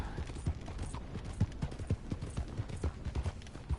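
Horse hooves in Red Dead Redemption 2 clip-clop in a steady, moderately loud rhythm, with a faint creak of tack and gear underneath and no talking.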